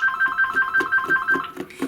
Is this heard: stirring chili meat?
no